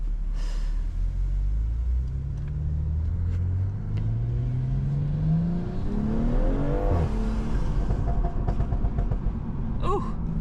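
A BMW M340i engine revs and accelerates up through the gears, with sharp exhaust pops and crackles near the end over a steady road rumble.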